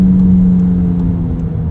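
A 2019 Volkswagen Jetta 1.4T with a six-speed manual pulls above 3,000 RPM, its engine a loud, steady, close drone from inside the cabin.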